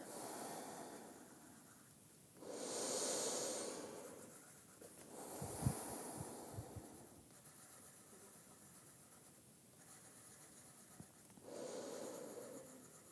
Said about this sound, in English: Take a few deeper breaths.